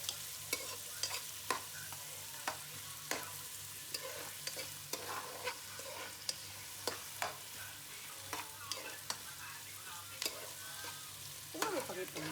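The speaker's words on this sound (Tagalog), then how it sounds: "Kaya naman natin maluto unti ang sibuyas, mga sibuyas, bawang, at luya." Onions, garlic and ginger fry in a hot pan for a Filipino chicken-and-tomato dish, with a steady broadband sizzle and regular scraping stirs every second or so, close and fairly loud with no talking.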